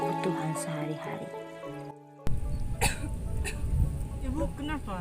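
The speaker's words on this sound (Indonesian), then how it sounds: "ibu hanya batuk biasa saja" A mother coughs several times in a short burst, close and clear. Music plays before a brief silence, and a voice speaks afterward.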